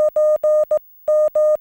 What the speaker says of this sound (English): Or you can send all of the 599 without using the shortcut.